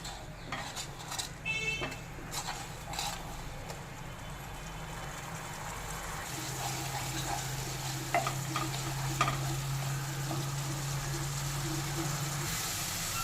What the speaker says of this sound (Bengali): এইভাবে নেড়ে কিছুক্ষণ রান্না করে মশলাটাকে কষিয়ে নেব।